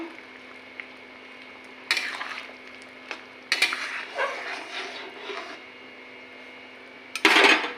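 Sporadic clinks and scrapes of a spoon stirring cumin paste into a simmering pointed gourd curry in a pan, quiet between a few sharper knocks against the metal.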